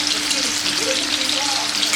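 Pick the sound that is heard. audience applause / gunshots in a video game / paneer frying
paneer frying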